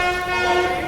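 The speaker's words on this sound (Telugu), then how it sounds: "మన సంపర్క్ క్రాంతి పూర్తిగా 2 గంటల 40 నిమిషముల ఆలస్యంగా మన Mahabub Nagar railway station platform 3 మీదకి చేరుకోవడం జరిగిందండి" The Sampark Kranti express stands at Mahbubnagar railway station platform, a loud, sustained horn-like tone with rich harmonics blaring continuously over rumbling station noise.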